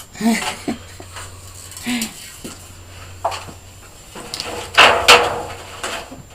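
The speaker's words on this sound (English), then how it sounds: "I'll move your printing tray off the top of the printer." Clattering and knocking of plastic and metal as a printing tray is moved off the top of a printer, a few sharp clunks with quiet rustling between, some faint talk in the background.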